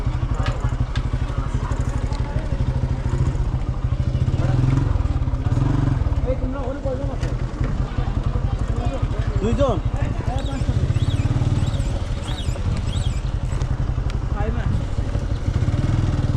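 A motorcycle engine runs continuously during a wheelie stunt, its revs rising and falling with throttle blips, and people talk over it throughout.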